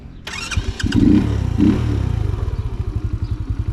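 An RKS Easy Pro 50 motorcycle engine cranks and catches, a sharp clattering start settling into a steady, close putter of a small single-cylinder idle that pulses evenly to the end.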